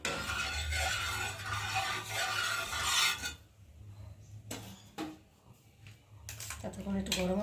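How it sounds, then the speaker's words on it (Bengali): Eggs beaten in a small bowl, a raspy scraping whisk heard first as a continuous rubbing burst, then as short broken strokes with light clinks. "আমি একটু ভালো করে ফেটে নিই। ছোটো বাটিতে নিয়েছি তো"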